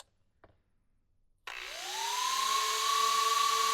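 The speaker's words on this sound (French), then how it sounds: "je vais parler plus fort à cause des ventilos" After a moment of near silence, cooling fans on a Genius GTC8E nitro RC car setup whir up abruptly and rise in pitch to a steady, loud motorized hum with a whining tone.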